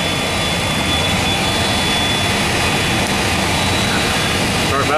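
Jet engine number three on an MD-10 spooling up during start, heard from the flight deck as a loud, steady broadband roar with a thin high whine, while voices talk over it throughout.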